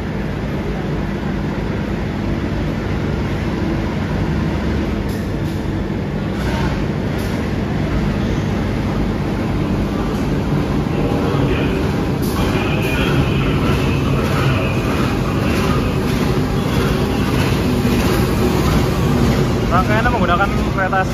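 A passenger train of mild-steel carriages with wide panoramic windows, hauled by a CC 203 diesel locomotive, rolls along with a loud, steady, continuous rumble and rattle throughout, with no clear breaks.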